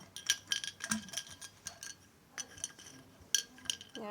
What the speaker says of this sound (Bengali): ঢাকনা লাগিয়ে দিলাম এই দেখো এই ওয়াটার বোতলটা কি সুন্দর